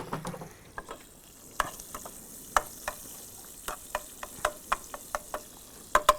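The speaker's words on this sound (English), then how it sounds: "pancetta's gonna crisp." Pancetta frying and crisping in a pan for a sausage ragu, heard as a steady soft sizzle broken by irregular sharp crackles and pops, close by with no talk.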